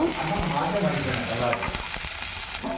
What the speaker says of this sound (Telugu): క్యాప్సికమ్ వేసుకొని బాగా వేయించుకోవాలి